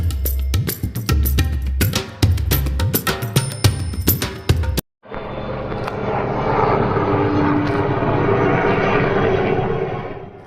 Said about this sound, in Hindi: और हेलीकॉप्टर जा रहा था नीचे से